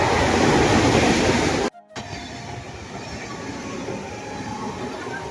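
A train runs past in the rainy season near a flooded river, a loud, steady broadband rumble that cuts out abruptly for a moment, then continues more quietly as a sustained rolling roar with no voices.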